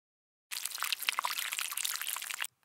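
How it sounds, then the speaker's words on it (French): Water poured from a watering can onto garden plants, a steady splashing trickle lasting about two seconds that starts and stops abruptly, close and alone with no talking. "Arroser les plantes."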